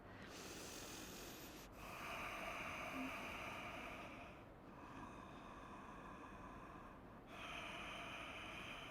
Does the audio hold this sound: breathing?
yes